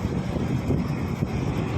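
Strong wind buffeting the microphone on a boat at sea, bound back toward Dapitan: a loud, steady roaring rush with low rumble throughout and no voices.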